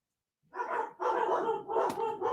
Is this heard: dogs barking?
yes